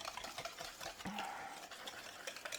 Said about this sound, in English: So we're gonna whisk, that'll help kind of sift the flour as well.